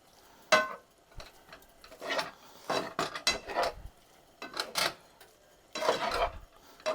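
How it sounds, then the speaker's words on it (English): Spoon stirring shrimp scampi in a pan or bowl, giving a series of scraping, clinking strokes in irregular bursts, close and moderately loud, with no talk. "So I'll get this stirred up"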